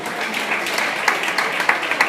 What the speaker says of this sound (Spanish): Un aplauso para Eudí.